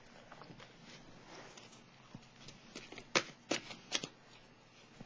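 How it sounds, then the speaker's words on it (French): Oracle cards being shuffled by hand, a quiet riffling patter that builds into several sharper snapping bursts near the end, close and alone with no talk. "Je vais piger une carte de mon oracle de l'âme intuitive."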